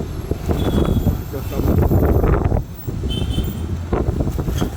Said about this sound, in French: Ah ouais, il y a un beau vent.